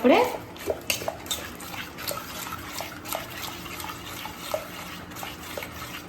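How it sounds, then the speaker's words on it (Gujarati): A spoon stirs and scrapes through farali dhokla batter in a pot as green coriander is mixed in, giving soft, uneven clinks and scrapes close by with little talk. "લીલા ધાણા એડ કરીને સારી રીતે મિક્સ કરી લઈશું."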